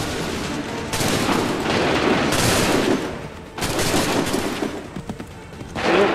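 Musket volleys crackle through a battle in Assassin's Creed 3 at Lexington, a dense sustained fusillade of overlapping gunshots, loud and close, swelling in waves with scattered single shots near the end.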